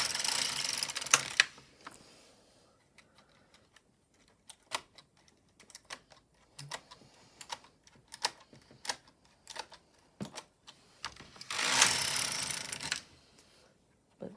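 An LK150 knitting machine at work, with carriage swishes across the needle bed at the start and end and a run of scattered mechanical clicks and clacks from needles being pushed out in between, fairly close, no voices.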